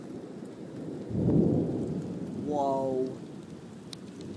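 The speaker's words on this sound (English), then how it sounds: "Still raining and thundering, even with the sunset, still raining and thundering." Thunder rumbles through steady rain during a severe thunderstorm at sunset, a close, deep roll followed by a second, fainter rumble, with a person briefly exclaiming.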